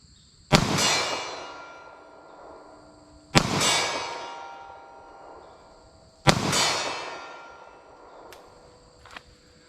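Three loud, well-spaced 9mm Federal Hydrashok pistol shots fired at a 40-yard target outdoors, each a sharp crack trailed by a long ringing decay, with a faint metallic ping near the end.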